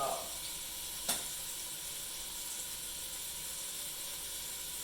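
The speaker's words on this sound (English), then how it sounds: "Sizzle. That's what you want. I don't know if you can hear that, but sizzle." Short ribs sizzle steadily in a pan on very high heat, a constant crackling hiss with one brief sharp clink near the start.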